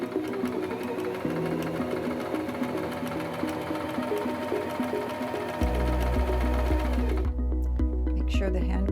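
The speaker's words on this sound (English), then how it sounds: "step on the foot control to start sewing" A Singer M2400 sewing machine runs steadily with a fast, even mechanical whir and needle clatter, close up, then the motor hum shifts and the stitching stops near the end.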